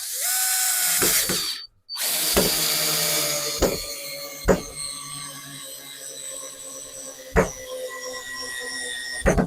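A 12V Aurora cordless screwdriver drives a screw with a loud, steady whining motor, broken by a short pause and a series of sharp clicking ratchet bursts as the clutch slips.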